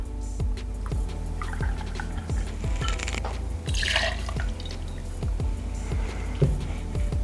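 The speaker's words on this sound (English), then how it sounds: "we add 60 ml of bourbon" Bourbon is poured from a bottle into a cocktail shaker in a steady run of gurgling glugs with liquid splashing. The sound is close and heard alone.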